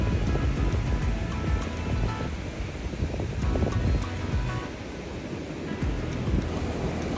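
Waves wash continuously onto a beach in Da Nang, Vietnam, a dense, steady surf roar with gentle swells and some wind rumble, and no talking.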